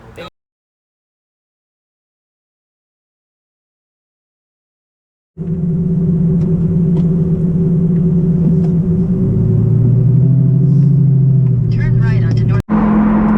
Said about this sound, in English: Alright, so we are in the new Lamborghini Gallardo 2008.